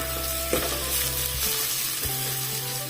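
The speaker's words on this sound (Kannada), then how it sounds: "ಬೆಳ್ಳುಳ್ಳಿ ಸ್ವಲ್ಪ ಕಡಿಮೆ ಹಾಕಿದ್ದೇನೆ ಹಾಕಿ ಒಮ್ಮೆ ಚೆನ್ನಾಗಿ ಫ್ರೈ ಮಾಡುವ" Garlic fries in a pan for a curry with soya chunks, a steady dense sizzle filling the whole stretch, close and loud, with a faint stirring knock and no talking.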